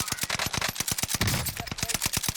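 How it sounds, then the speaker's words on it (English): Gunfire in the Warzone battle royale game: a fast, evenly spaced run of sharp automatic shots, loud and continuous for the whole stretch with no speech. "Great shots."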